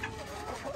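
A Lavender Americana rooster gives a short, close cluck on a farm, a single brief burst of fowl vocalizing.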